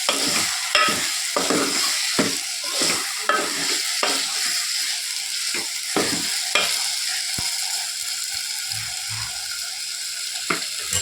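Okra curry being stirred in a pan, a sizzling hiss under a steady run of scraping spatula strokes, close and fairly loud, with no talking.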